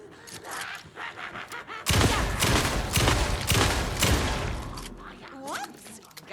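Rapid gunfire erupts in the survival horror game Alan Wake 2, a loud, continuous volley of shots lasting a few seconds, bracketed by quieter game sounds and a brief voice before and after.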